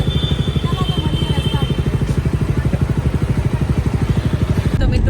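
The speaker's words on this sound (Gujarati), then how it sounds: "તો મિત્રો આપણે બાઇક લઈને નીકળી ગયા છીએ" A Jawa Bobber 42 motorcycle rides along the road, its engine thumping in a steady, loud, even pulse throughout, close to the listener with faint wind.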